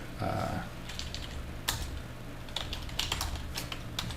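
Fingers type a command on a computer keyboard, a quick patter of close, crisp key clicks in irregular bursts over a faint room hum, with no talking.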